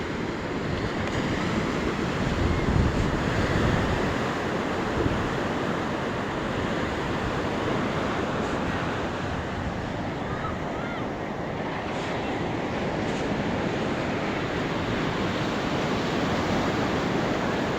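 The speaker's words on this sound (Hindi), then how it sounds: "इधर का पानी कितना ही देखिए लहर मार रहा है इस पानी।" Steady roar of sea surf washing onto the shore at Bainbridge, broad and continuous, with wind buffeting the microphone throughout and no voices.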